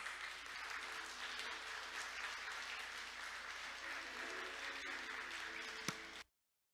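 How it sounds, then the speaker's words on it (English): Warm audience applause welcoming a National Assembly member to speak at a Korea Maritime Week gathering, a steady, even crowd sound heard at a distance that ends abruptly after about six seconds. "Let's welcome him with a warm round of applause."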